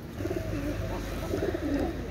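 A pair of young Kamagar pigeons at a pigeon sale coo in low, rolling, repeated phrases, close and moderately loud over a soft background murmur.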